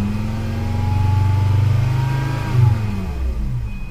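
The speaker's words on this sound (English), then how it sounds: "So let's raise the RPM up." A 1994 Volvo 850 with a 2.4L engine and a faulty mass airflow sensor signal revs up close by, its tone rising and swelling, then easing back down, loud and steady with no one talking.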